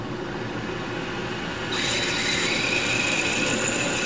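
A lathe drills into case-hardened steel with cutting fluid, a continuous loud grinding whine that grows brighter and more intense partway through, heard alone.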